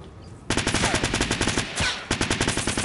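Rapid submachine-gun bursts in a first-person shooter match, loud and close, with a brief pause before the firing resumes in a steady rattling rhythm.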